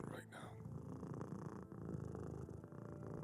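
A cat purrs in a Minecraft roleplay, a soft continuous rumble running steadily underneath people talking throughout.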